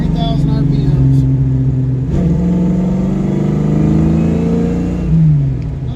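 A car with a carburettor and distributor under tuning pulls at full throttle in third gear to about 3,000 RPM, its engine drone loud and close and rising steadily in pitch, with a brief change partway through.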